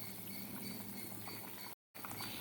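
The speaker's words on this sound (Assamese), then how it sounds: "এইয়া মাছৰ জোল উতলি আছে।" Fish curry broth boils in a pot with a steady bubbling, simmering hiss that cuts out briefly near the end.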